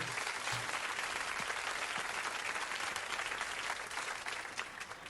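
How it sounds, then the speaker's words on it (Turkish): A crowd applauds loudly and continuously, dense clapping filling the whole stretch without pause. "Bir alkış daha verin."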